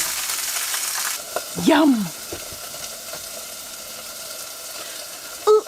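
Alcohol cooking off in a hot pan during vanlife camp cooking on Vancouver Island: a steady close sizzle with faint stirring, and one short spoken word early on.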